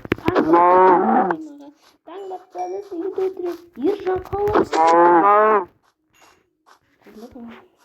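A cow moos loudly and close by in several long, drawn-out calls, with someone speaking in between the calls.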